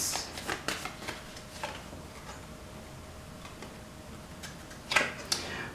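Angel cards are shuffled by hand in a quiet room, giving soft, quick papery riffles and taps that come in short bursts at the start and again near the end, with a lull in between.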